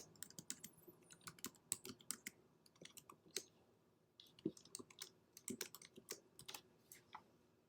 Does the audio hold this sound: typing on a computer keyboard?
yes